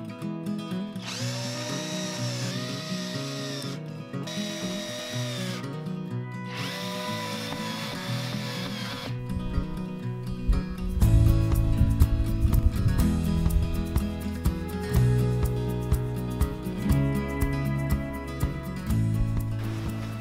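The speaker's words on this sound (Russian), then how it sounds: "теперь остается их прикрутить вот такими самозакручивающимися саморезами на 25 миллиметров" A power drill drives 25 mm self-tapping screws through metal anchor plates holding a plastic window frame in a log house. It whines in short bursts with pauses, then grinds steadily louder as each screw bites, with no talking.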